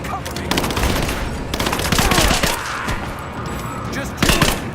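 Automatic gunfire from the video game Rise of the Tomb Raider crackles in rapid, loud bursts with heavier booming shots mixed in, continuous over the whole stretch, with some talking underneath.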